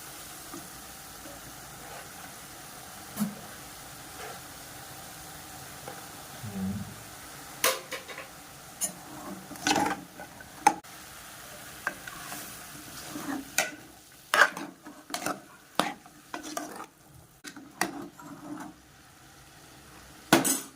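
Onions and fatty pork cooking in a pan without oil give off a low, soft sizzle, broken by sharp clinks and scrapes of a spoon against the pan that grow more frequent toward the end.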